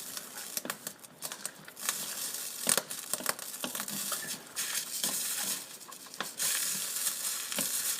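Bean and vegetable taco filling being mixed together, producing soft, irregular scraping and squelching stirs that are close and fairly quiet, with no talking.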